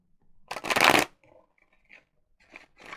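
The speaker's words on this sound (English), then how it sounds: "Now this one I'll shuffle 3 times." A deck of tarot cards riffles in one loud, close burst, followed by softer, scattered card handling and light sliding.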